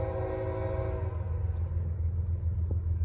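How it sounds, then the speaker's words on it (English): Norfolk Southern ballast train rolling past close by, a steady low rumble of wheels and cars with a horn tone fading out early. "We got a ballast train."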